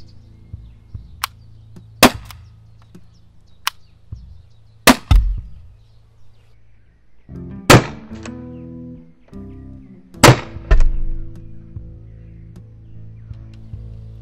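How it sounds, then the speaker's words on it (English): Normal ammunition fired from an HDR .50 caliber sniper rifle in a video game: several sharp, loud reports spaced a few seconds apart, each followed by a short rumbling tail, with no talking. "2 shots of the normal ammo type first"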